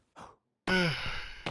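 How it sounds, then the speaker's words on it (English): A single person yawning, a brief breathy intake followed by a longer drawn-out exhale with a falling voiced tone, close and clear. "jeez, I keep yawning"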